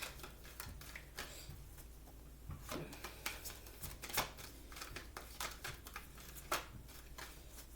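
Oracle cards shuffled by hand in a quiet room during a spiritual reading, a string of soft, crisp riffling snaps and brief flicks, close and faint, without any talking.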